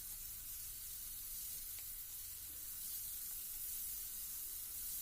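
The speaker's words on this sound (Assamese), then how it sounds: "মই ঠিক 3 ছেকেণ্ডমান সময় এনেদৰে মছলাত সানি পেলাই ভাজি লৈছোঁ" Paneer pieces frying in masala in a pan, giving a steady, soft, continuous sizzle with faint spitting, heard alone without talk.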